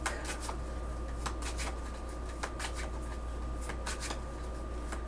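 Tarot cards are shuffled steadily up close, a crisp riffling and slapping that repeats in quick bursts against a low constant hum.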